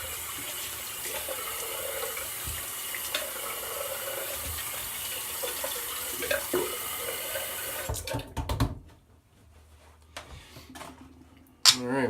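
Tap water runs steadily into a sink while someone rinses off after a shave, a continuous close splashing hiss that stops abruptly near the end, followed by brief handling clatter.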